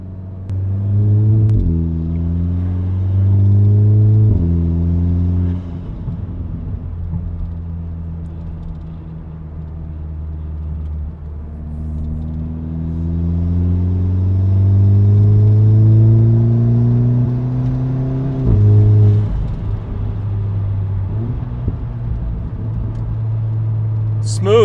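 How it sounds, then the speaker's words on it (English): A 2018 VW Golf R MK7.5 with a Stage 1 ECU tune rumbles and revs through the gears, its engine rising and falling in repeated pulls with burble between shifts, while people talk over it. "I like the Burble, how it sounds so far. Definitely a lot more crisp"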